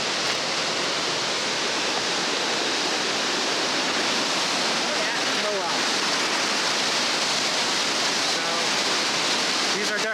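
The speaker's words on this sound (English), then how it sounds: "Spillways when they're spilling." Water thunders over the spillways of Fontana Dam, a loud, steady roar of spilling water that stays dense and unbroken throughout, with faint voices briefly audible beneath it.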